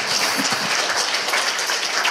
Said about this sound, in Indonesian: Berikan tepuk tangan kita untuk Tuhan kita yang dahsyat.